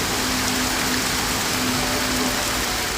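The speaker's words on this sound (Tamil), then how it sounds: "மாலையில் திடீரென பரவலாக கனமழை கொட்டியது." Heavy evening rain pouring down suddenly across Kanchipuram district in Tamil Nadu, a dense, steady, broadband roar with no breaks and a faint tonal hum beneath it.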